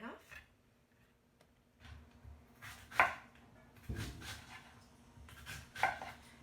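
A knife cuts through fennel on a cutting board in a few sharp, separate strokes spaced seconds apart, quiet against a low room background with a faint voice.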